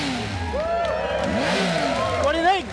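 A Triumph Speed Triple S motorcycle engine revs up and down in several bursts, its pitch sweeping high and low, fairly close and loud.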